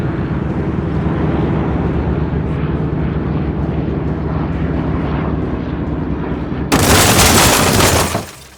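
A Cessna plane crashing in jungle: a loud, sustained engine roar that suddenly bursts into a brighter, harsher noise of impact and debris before fading out.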